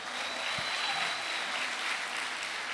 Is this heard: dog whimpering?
no